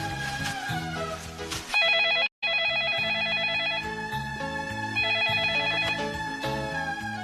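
Telephone bell ringing in repeated bursts, loud and close, mixed with melodic background music, with a brief cut of silence partway through; no talking.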